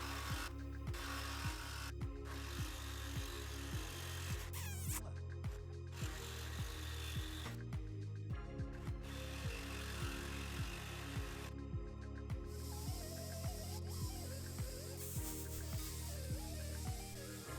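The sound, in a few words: power tool cutting a sway bar link stud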